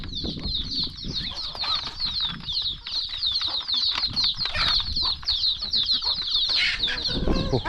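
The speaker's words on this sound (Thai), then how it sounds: "โอ้เป็ดไก่ลายคัก" Chickens cluck and flap their wings in a close, continuous flurry of feathery beating and short clucks that runs steadily throughout.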